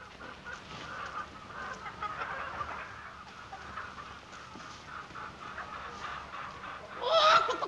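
Clucking from a Plymouth Rock hen among a flock of chickens in a 1939 comedy short, a steady low chatter of hen calls under hiss that ends in a louder burst of squawking.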